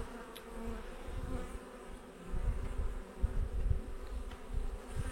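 Honeybees buzz around an open hive during an inspection, a soft continuous droning swarm that swells and fades, fairly faint with no talking.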